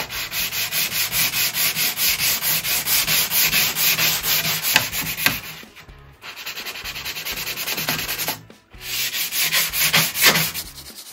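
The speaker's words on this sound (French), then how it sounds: "je vais pas vous infliger tout le ponçage" Wood on a Louis Philippe secretary desk being sanded, a loud, continuous rasping rub in fast back-and-forth strokes, close up, with two brief pauses before the steady scraping resumes.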